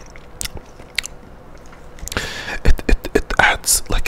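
Close-up crunchy bites and wet chewing of a Snickers Rockin' Nut Road candy bar with marshmallow and nougat, soft clicks at first, then a dense run of loud crunches and chews.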